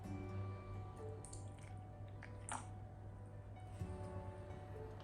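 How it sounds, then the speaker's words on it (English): Water poured onto super absorbent polymer, giving soft, wet dripping and squishing sounds that continue steadily at close range over a low background hum, with no talking. "Let's pour some more water."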